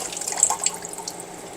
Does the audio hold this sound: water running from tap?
yes